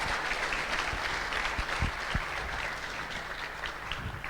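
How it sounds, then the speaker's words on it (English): A live audience at a Sunday love feast in a temple hall gives a sustained round of applause. The clapping is steady and moderately distant, with a few sharper nearby claps. "So I would like to give Her Grace, Bhaktin Rohini, a very big round of applause"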